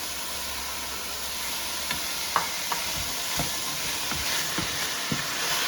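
Celery sautéing in a pot for chicken noodle soup gives a steady low sizzle with a few soft clinks and scrapes of stirring, fairly quiet and with no voices.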